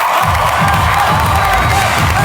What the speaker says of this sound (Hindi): पाकिस्तान के सबसे बड़े टीवी शो पर उनका सबसे बड़े क्रिकेटर का स्वागत जमीन पर बैठ के ताली बजाकर हो रहा है।